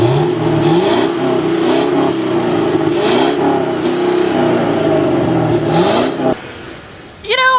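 A 2015 Chevy Camaro SS convertible's 6.2-liter V8, rated at 400 horsepower and held below 4,000 RPM, revs loudly and steadily with its pitch rising and falling, then cuts off sharply before a brief different sound at the end.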